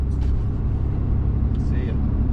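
A car carries a hunter and his freshly killed New York whitetail buck to the shop, its engine and road noise forming a steady close rumble throughout, with brief higher rattles over the drone.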